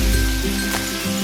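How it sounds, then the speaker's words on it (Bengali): Tomato frying in hot oil in a pan, a steady dense sizzle filling the short moment, close and loud, with a faint clink of a utensil. "এবার টমেটোটা তেলের সঙ্গে খুব ভালো করে ভেজে নেব।"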